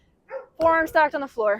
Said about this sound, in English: Sorry if you can hear this dog barking.